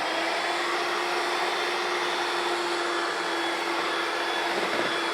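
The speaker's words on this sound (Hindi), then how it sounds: "अब इसको हम थोड़ा सा इसको ग्राइंड कर लेंगे, ये जो अंडा हमने डाला है।" An electric grinder blends a freshly added egg into cake batter, giving a continuous loud motor whir that holds steady for the whole stretch, with no voices.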